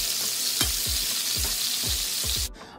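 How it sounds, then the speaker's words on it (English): Meat pieces searing in avocado oil in a hot skillet, a steady loud sizzle with several soft thuds as pieces land, cutting off abruptly near the end. "I dropped in my pieces so we can get a nice sear to start building flavor"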